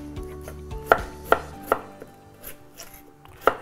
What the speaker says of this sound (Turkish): patateslerini doğrayayım